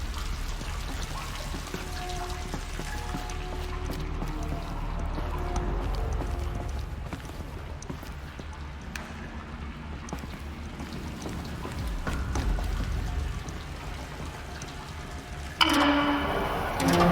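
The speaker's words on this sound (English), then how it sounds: "The water's flowing, just not where it needs to." Water flows and pours in Horizon Zero Dawn, a low, steady rushing wash under game sounds, with hoof-like clopping and a sharper burst of noise near the end.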